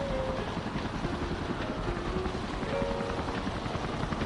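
A helicopter drones over stormy weather in a steady, muffled, noisy wash that stays even and unbroken throughout, with no voices.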